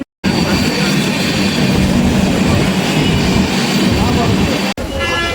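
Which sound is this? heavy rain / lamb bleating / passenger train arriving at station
passenger train arriving at station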